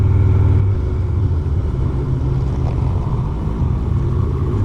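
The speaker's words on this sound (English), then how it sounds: "Really gassing it up now as he comes out of the turn and heads up to BP." A Harley-Davidson Road King motorcycle accelerating uphill out of a turn on the Mount Panorama circuit at Bathurst, a loud, steady, deep engine rumble heard close up, with no talk.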